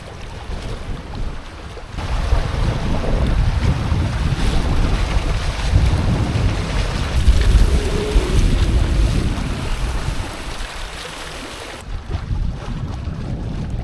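Strong Bora wind gusts buffet a Hobie Cat 16 catamaran sailing between Italy and Croatia, loud roaring wind noise and rushing water that swell and ease in waves across the clip.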